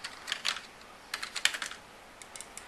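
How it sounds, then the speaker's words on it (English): Computer keyboard keys tapped in short irregular bursts while a name is entered during an Ubuntu installation, close and fairly quiet, with brief pauses between clusters of clicks and no talking. "We'll type in Alex Thompson."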